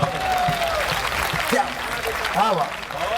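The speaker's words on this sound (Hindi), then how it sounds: "लोग खड़े होकर तालियां बजाना" A standing audience applauds at a patriotic poetry recitation honoring soldiers, the clapping steady and moderately loud underneath a voice speaking over it.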